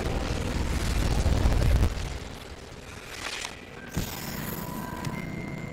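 The Incendio fire spell cast in Hogwarts Legacy gives a loud, rumbling whoosh of fiery burst that fades, followed by softer game sounds and faint tonal effects, with no talking.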